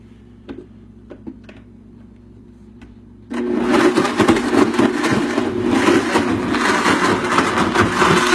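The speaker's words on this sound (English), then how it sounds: "Now I'm just going to start blending this stuff a little bit" After a few quiet ticks and clicks, a blender switches on abruptly and whirs loudly and steadily until the end.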